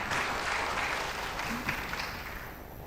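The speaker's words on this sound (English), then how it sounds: "Please give her a huge applause." Audience applause at an international urban conference as a speaker takes the stage, a distant, diffuse wash of clapping in a large hall, steady and softly fading.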